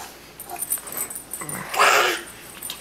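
A dog indoors at home gives short wheezy snuffles and a brief whimpering burst, fairly close by, with quiet household sounds around it.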